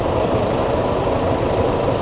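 A 2011 Honda Fan 150 motorcycle engine runs steadily at idle, a close, even low rumble with a faint rapid knock that holds without a break.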